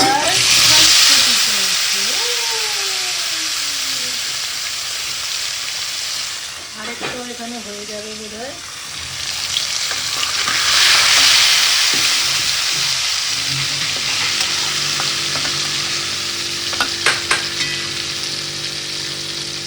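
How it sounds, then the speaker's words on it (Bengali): Pomfret fish fries in a pan of oil, a continuous loud sizzling hiss lasting the whole stretch, with several people chatting over it now and then. "এখন পমপ্লেট মাছ ভাজা"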